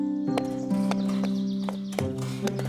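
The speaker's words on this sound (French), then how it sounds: "La princesse monta sur le dos de Falada et sa suivante sur celui d'un âne." A horse's hooves clip-clop at an even pace as a princess rides, the rhythmic clops set over sustained musical tones with a hint of whinny.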